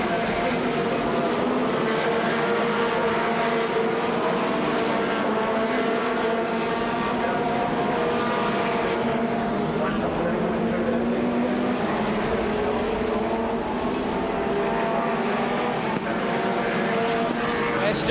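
Formula 2 stock cars race around an anti-clockwise circuit, their engines roaring in a steady, loud, continuous drone close by, with a commentator talking over the noise throughout.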